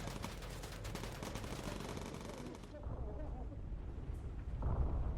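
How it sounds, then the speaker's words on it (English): Explosions and rapid gunfire in the World War II bomber video game Bomber Crew, a dense loud barrage that drops off partway through, followed by softer rumbling and a fresh burst near the end. "Oh, that's quite the explosion."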